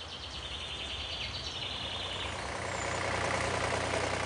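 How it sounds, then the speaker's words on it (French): A tractor engine runs steadily on a large Loire river island, a broad low rumble and mechanical drone that holds even throughout and swells slightly louder toward the end, with no voices. "Le tracteur sert donc aussi de transport en commun."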